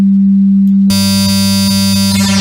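An FM sine wave oscillator on the ANA 2 synthesizer starts as a pure steady low tone, then abruptly turns into a bright, buzzing, harmonic-rich sustained sound that holds loudly to the end.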